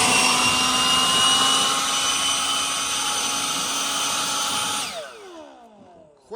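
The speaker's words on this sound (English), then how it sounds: "carry around one of these battery-powered blowers" A battery-powered blower roars steadily while clearing a tractor radiator, a loud, close, high whine held for several seconds before it powers down with a falling pitch.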